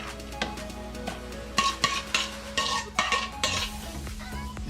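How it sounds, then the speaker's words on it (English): Halibut pieces tipped into a big bowl and stirred, with a series of close, clattering scrapes and knocks of utensil against bowl in an uneven rhythm, no talking. "So I have a big bowl. I'm gonna add our halibut."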